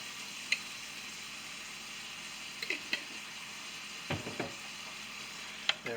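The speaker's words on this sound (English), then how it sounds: "Mix that all in together" Food mixture gets stirred in a small pan while steak cooks, with a faint steady sizzle and a few soft scrapes and clicks of the utensil, quiet and close, no voices.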